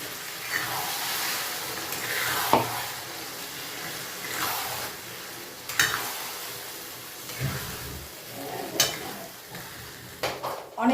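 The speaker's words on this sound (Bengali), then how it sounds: "মশলাটা এখানে অর্ধেক ভাজা হয়েছে। এখন এই টাইমে আমি দিয়ে দিচ্ছি টমেটো পিউরি।" Spice paste sizzles and fries in a pan with tomato puree added for a Bengali rui fish-head muri ghonto, with repeated stirring scrapes and bursts of sizzle rising and falling, close and moderately loud with no talk.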